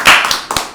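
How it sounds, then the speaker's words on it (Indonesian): A small group claps hands in a short, loud burst for a guest entering an office talk show, a quick flurry of claps that fades, followed by a few scattered taps. "Tepuk tangan dulu dong."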